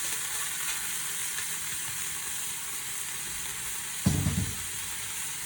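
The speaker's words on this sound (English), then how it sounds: "over there is my pot of water boiling for the noodles" A steady bubbling, sizzling hiss of a pot of water boiling for noodles runs throughout, with a brief low clunk near the end.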